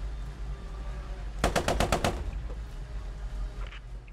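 A short machine-gun burst in the World War II shooter Post Scriptum, Fall of France setting. About six loud, evenly spaced shots ring out over a low rumbling background, then fade into quieter ambience.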